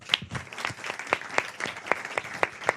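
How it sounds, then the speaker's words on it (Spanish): A small audience claps for Rocío at a live improv comedy and podcast show, sparse scattered hand claps with distinct individual slaps rather than a dense roar, fairly close and steady across the short stretch. "Un fuerte aplauso para Rocío."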